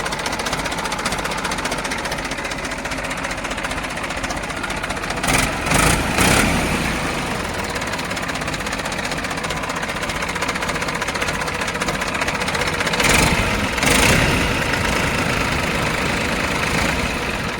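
A New Holland 3230 tractor with its original company-fitted engine idles steadily and close by, a rough, even diesel chug that holds for the whole stretch, with a couple of brief louder bursts.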